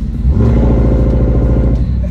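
A Ram TRX truck with straight-piped exhaust and the resonator deleted revs loudly nearby, a deep, rough, raspy rumble that swells and holds, echoing off nearby buildings.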